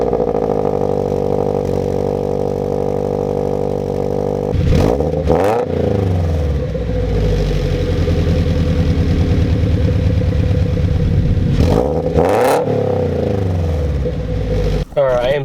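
A Subaru BRZ with MXP unequal length headers idles with a steady, burbling exhaust note, then revs sharply twice in quick stabs. A second pair of revs comes a few seconds later, and a final blip ends the sequence.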